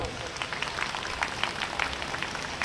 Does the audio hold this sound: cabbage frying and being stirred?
no